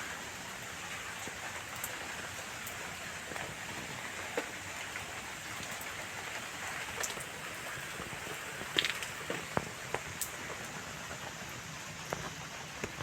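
Steady rain pattering on garden plants such as begonias and roses, a continuous even hiss of drops on leaves with occasional louder close drips, and no voices.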